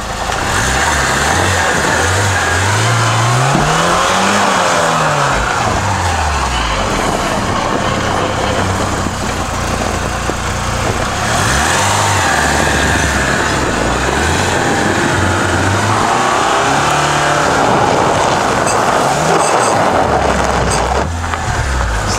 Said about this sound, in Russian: Слышно сзади самоблок. Сателлиты там поджимаются. подкрустывает, работает.